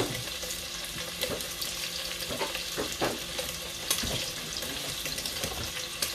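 Rice and butter cook in a pot, giving a steady close sizzle and bubbling with faint scraping stirs, no voices.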